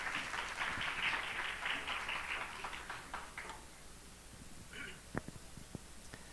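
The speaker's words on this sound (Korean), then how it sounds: "우리 큰 박수로 우리 교감 선생님을 환영하겠습니다." An audience at a school orientation gives a quiet round of applause to welcome the elementary vice principal. The clapping fades away after a few seconds, leaving a near-silent room with a few scattered taps.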